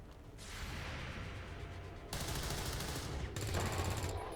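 Rapid overwatch gunfire in XCOM: War of the Chosen bursts out in two or three sustained volleys, fairly quiet and muffled, each burst cutting in sharply after a brief lull.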